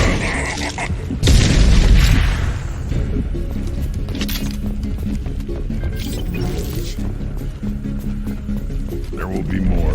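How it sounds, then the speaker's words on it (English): Concussive shot ability fired in the Mass Effect 2 video game, a loud booming blast early on among steady battle noise, clinks and mechanical effects, with voices talking over the action. "Concussive shot ready."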